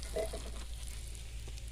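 Soft, steady sizzling of curry leaves, dried red chillies and sambar powder frying in hot oil for tempering, faint and continuous, with a light stir near the start.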